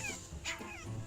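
A small rescued dog whimpers and yips in brief, thin bursts during a police rescue, fairly close over steady outdoor background noise.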